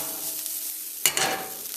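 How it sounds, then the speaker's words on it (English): Black pepper gets stirred into Jamaican callaloo vegetables softening in hot oil, a steady close sizzle with a brief scraping stir partway through. "I'm going to continue adding this black pepper, give it a stir, and allow that to soften up for a couple minutes."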